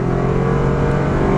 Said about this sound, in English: see how it accelerates with the Hybrid Max powertrain